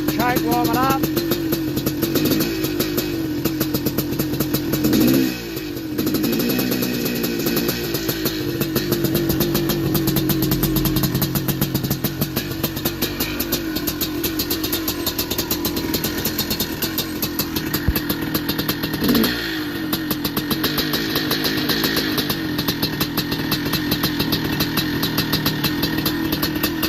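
A 1983 Yamaha IT490 big-bore two-stroke enduro motorcycle engine runs loud and close, idling with a rough rapid pulse and rising in several revs, with talk briefly over the engine.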